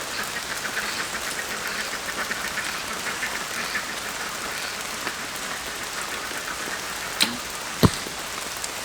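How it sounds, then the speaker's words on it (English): Steady rain falls outdoors around an archer practicing with a compound bow, a dense even patter throughout, with a couple of sharp louder knocks near the end. "practicing in the rain and the weather, there's water on my string, there's water on the cams"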